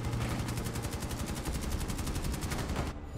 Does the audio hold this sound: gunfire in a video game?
yes